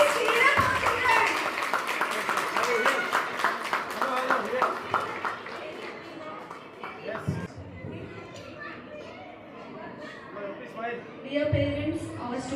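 An audience at a school annual day claps and cheers for the children, with dense applause in the first half that thins into scattered clapping, chatter and talk over a loudspeaker.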